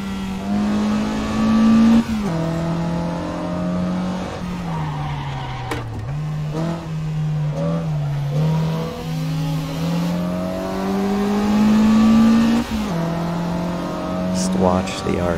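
A Mazda RX-7 race car in Assetto Corsa races with a high, rising and falling engine wail, shifting through gears with tire squeal and skidding throughout, while people talk over it.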